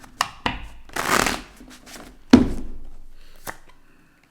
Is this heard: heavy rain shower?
no